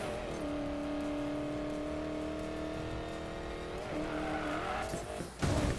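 A car in Need for Speed Payback slides through a curve on the e-brake, producing a sustained, steady tire squeal over engine drone that tails off near the end, with no one talking.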